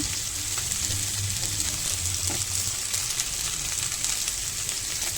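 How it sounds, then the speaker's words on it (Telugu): Dried chillies with turmeric and salt shallow-frying in oil give a steady, soft crackling sizzle, with faint stirring clinks and no talking. "కొంచెం సాల్ట్ వేసేసి మనం షాలో ఫ్రై చేసుకోవాలండి"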